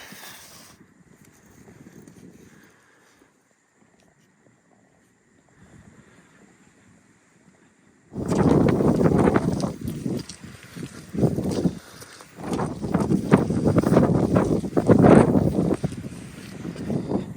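Wind near the summit of Mount Chocorua: quiet gusts at first, then from about eight seconds strong, loud wind buffets the microphone in roaring surges.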